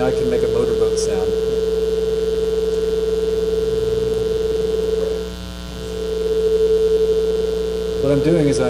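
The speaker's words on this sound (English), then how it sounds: "I can make a motorboat sound." A synthesized tone whose oscillator phase is reset every 500 milliseconds, giving a steady buzzing, throbbing motorboat-like drone that briefly dips in level before returning, heard alone and close.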